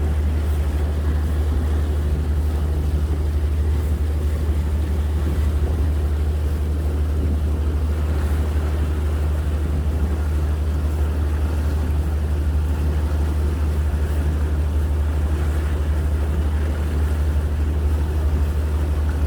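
A boat cruises along a river with a steady, loud engine drone and a constant low rumble, mixed with the wash of water. It runs unbroken and alone, with no voices.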